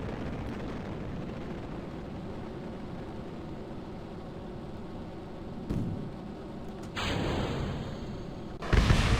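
Rocket parts exploding in Kerbal Space Program under a steady roaring engine rumble, with a few sudden blasts near the end that jolt the sound louder.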